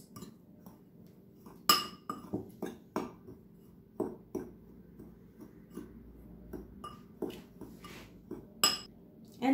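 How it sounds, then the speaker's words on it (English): Stuffing ingredients get mixed in a small bowl, a spoon clinking and tapping against the sides in an irregular series of light, close knocks over a quiet background. "In a small bowl, so we mix it."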